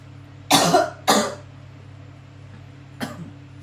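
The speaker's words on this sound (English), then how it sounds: "Excuse me, I need to cough." A person coughs in a home kitchen while peeling beetroots for fermenting: two loud, harsh coughs close together, then a softer single cough a couple of seconds later, over a steady low hum.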